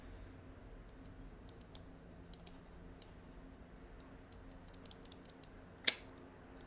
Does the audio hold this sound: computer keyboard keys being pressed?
yes